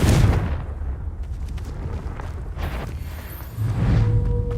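Confringo explosive spell cast in Hogwarts Legacy, a loud booming blast at the start followed by a rumbling crackling wash and another heavy burst near the end.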